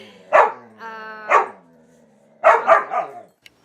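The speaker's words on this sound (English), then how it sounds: "but my dogs wouldn't shut up" Dogs bark loudly indoors in a few sharp bursts, with a short whining tone between the first barks and a quick volley of three barks near the end.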